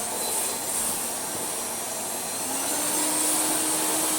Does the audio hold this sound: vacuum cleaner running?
yes